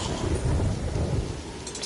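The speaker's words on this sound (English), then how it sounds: "Stormy up here." Thunderstorm in the video game Terraria, rolling thunder rumbling under steady heavy rain, loud and continuous for a couple of seconds.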